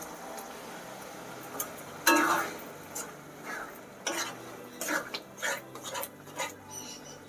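A pan of lote fish curry being stirred, with scraping and clinking of a spoon against the pan in several short bursts over a low background sizzle, close by.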